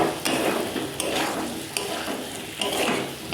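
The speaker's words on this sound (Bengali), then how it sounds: "তো এবার আমি এর মধ্যে ভেজে রাখা পনিরগুলো দিয়ে দিচ্ছি, দিয়ে মশলার সাথে ভালো করে মিশিয়ে দেব।" Fried paneer being stirred into a spice masala in a pan, sizzling steadily while a spoon scrapes through it in four distinct strokes roughly once per second.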